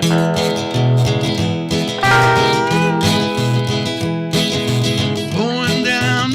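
A recording of a song plays, a full band with steady rhythm, bass and bright guitar or keyboard lines, loud and dense with no talking over it.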